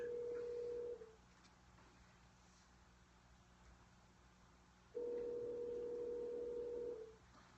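A telephone line plays a steady tone for about a second, falls quiet for several seconds, then sounds a second longer tone as a number is dialed, close and clear with no talking.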